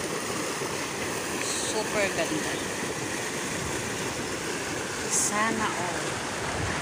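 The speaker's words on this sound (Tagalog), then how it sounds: "Look at the tubig, the running water. Wow, ang lakas ng bugso." A river rushes strongly and steadily, a dense close wash of running water that fills the whole scene while a voice speaks briefly over it.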